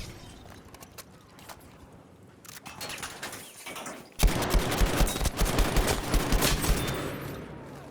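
A Chauchat machine gun in Battlefield V fires in rapid tap bursts at long range, the shots growing loud and dense midway after quieter distant gunfire, with sharp repeated cracks in quick succession.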